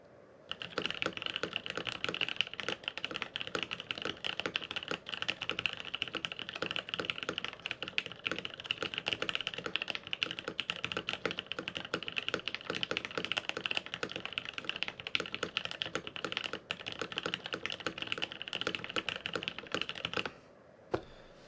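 Fast, steady typing on a Sirius 60 mechanical keyboard fitted with Butter Cream switches and DSA keycaps, a dense run of close clacks with no pauses for about twenty seconds before it stops abruptly.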